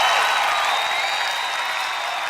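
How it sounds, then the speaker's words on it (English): A live podcast audience gives a loud, dense round of applause welcoming two guests, a steady wash of clapping that holds evenly throughout. "Let's get a big round of applause"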